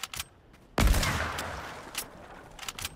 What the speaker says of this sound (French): La carabine de l'époque, malheureusement, c'est encore le bruit de maintenant.